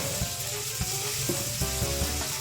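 Tomatoes fry with ginger and garlic in a pan for a village-style rabbit curry, giving a brief, close, steady sizzle with faint stirring sounds and no voices.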